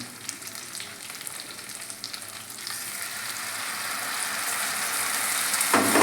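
Mustard paste sizzles and fries with hilsa pieces in a pan, a steady crackling hiss that builds slightly louder toward the end, with no talking.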